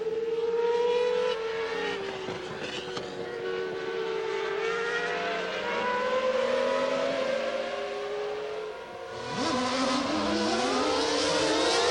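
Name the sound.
Formula 1 race car engine at 1995 Japanese Grand Prix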